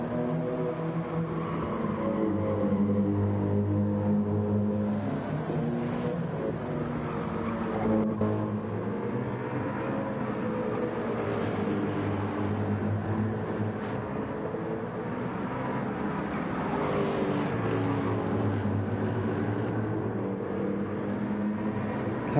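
Race car engines drone at Laguna Seca in Gran Turismo 7, a steady layered roar of several cars that rises and falls gently as they pass and shift, continuous throughout with no voices.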